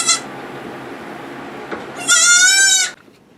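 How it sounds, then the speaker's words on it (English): Newborn baby goats bleat nearby: a brief high cry at the start, then a quiet stretch, then one loud, drawn-out wavering bleat lasting nearly a second before fading to low background. "We had 4 baby goats born today to 2 mothers."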